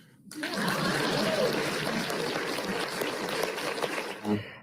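An audience laughs and claps in a played-back clip: a dense, continuous wash of crowd noise that rises quickly at the start and carries on steadily before tapering off.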